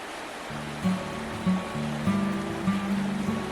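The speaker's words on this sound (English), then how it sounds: "That's the Alfred River just up from the first river flat." The Alfred River rushes in a steady hiss on a rainy bush walk near a river flat, while a low, wavering tonal drone sits over the flowing water.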